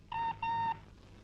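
A telephone in a movie scene gives two short, steady electronic beeps in quick succession, moderately quiet, with no talk over them.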